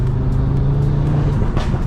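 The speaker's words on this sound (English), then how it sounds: "I need to speak up because of that exhaust." A 2019 Audi RS3 fitted with a Milltek exhaust drones steadily from inside while driving, a continuous loud engine note with no pops standing out.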